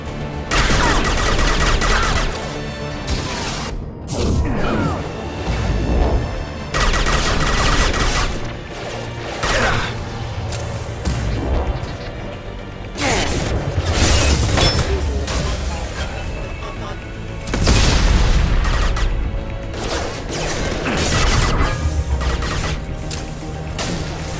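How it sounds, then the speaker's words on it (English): Rifle fire in the video game Mass Effect 2 comes as loud, repeated bursts of shots with brief gaps between volleys, mixed with other combat noise. "I love this rifle."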